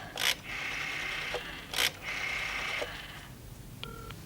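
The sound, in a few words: telephone number being dialed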